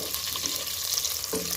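Onions browning in hot oil before garam masala goes in for a rice dish: a dense, continuous loud sizzle with faint stirring, running unbroken and close for the whole moment before cutting off abruptly.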